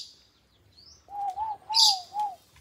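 A bird gives a few short warbling chirps close by, four or so clear notes after a brief quiet stretch.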